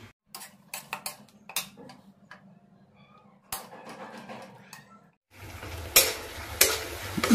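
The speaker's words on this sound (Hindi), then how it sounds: "मिनिमम अदरक लहसुन का पेस्ट मैं 1 मिनट तक फ्राई करूंगा" Ginger garlic paste with tomatoes fries in a pan, first quiet clicks and scrapes of a spatula with a faint low hum, then a louder continuous sizzle with spatula scrapes, no voices.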